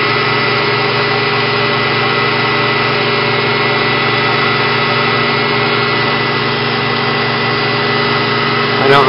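A milling machine takes a full depth finishing cut at 4,500 RPM and 15 inches per minute, a steady, loud, unbroken whine with a droning tonal hum that holds evenly throughout.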